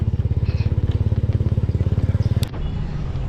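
A motorcycle bought from a relative runs with a steady, rapid engine throb close by, pulsing evenly before cutting to a quieter, smoother rumble near the end.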